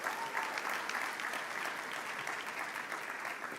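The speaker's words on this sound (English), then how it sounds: "Let's give Elaine Chang and her team a big round of applause." Steady round of applause from a crowd at a school district summer program closing ceremony, honoring Elaine Chang and her team, even and continuous at moderate distance.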